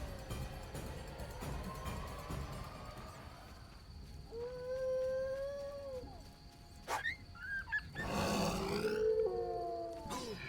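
Dogs in The Witcher video game howl and growl in a fight, with drawn-out tonal howls and rough snarls rising in bursts over continuous game noise, fairly loud throughout.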